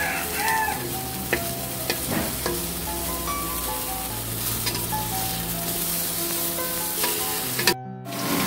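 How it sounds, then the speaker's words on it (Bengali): Eggplant slices fry in hot oil for begun bhaja, a continuous crackling sizzle with occasional stirring scrapes, fairly close and steady throughout. "লাল লাল করে ভাজতে হবে"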